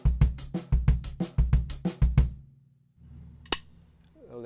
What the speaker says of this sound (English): Now when I play the same figure with my right hand on the hi-hat, it will sound like this.